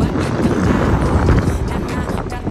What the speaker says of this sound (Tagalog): tuwan-tuwa si Dagit makalipad ngayon at lakas ng hangin mga kamigo.